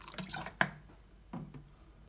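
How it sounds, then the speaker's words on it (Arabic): A little water poured onto fruit for juice, heard as two short splashing pours with a brief drip between them, quiet and close in a kitchen. "غنزيد هنايا طرو ديال الماء"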